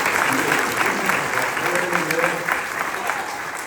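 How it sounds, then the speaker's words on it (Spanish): Church congregation applauding, a steady dense wash of many hands clapping together at close range, sustained without a break from start to finish. "Le puedo dar un aplauso al Señor David."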